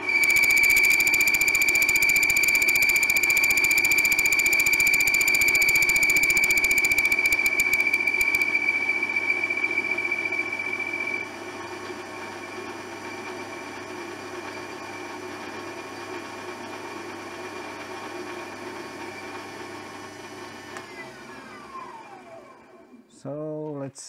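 A combination lathe and mill drill takes a tiny turning cut with a steady machine hum and a sustained high whine, which fades partway through before the motor winds down near the end; brief talk is faintly present.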